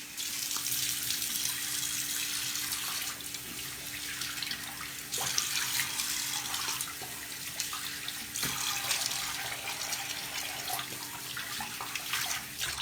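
Tap water running into a sink while a face is rinsed after a scrub: a steady, close, hissing stream with occasional splashes and splatters from hands moving through the water, no talk.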